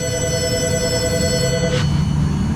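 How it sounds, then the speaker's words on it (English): A telephone rings steadily with a bright electronic tone over a low background hum in an auto repair shop, then the ring cuts off near the end. "The phone is ringing."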